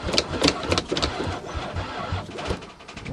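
A van engine cranks over and over without catching, a rough rhythmic churning from the starter and engine that keeps going for about three seconds, with no voice over it.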